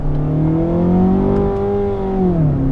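A 2016 Mazda6 GT engine accelerates hard in first gear, a loud, steady drone whose pitch climbs, levels off, then dips near the end, heard from inside the car with no one speaking.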